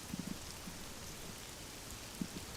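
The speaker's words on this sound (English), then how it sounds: "Rain pours down heavily" Heavy rain pours down outdoors at a history-charged location in the Netherlands, a steady dense wash of noise with a few louder drops landing nearby.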